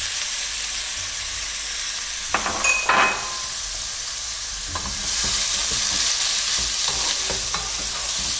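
Carrots and beetroot fry in a pan with a continuous close sizzle, punctuated by a few stirring scrapes and light clinks of a utensil, the hiss growing louder toward the end.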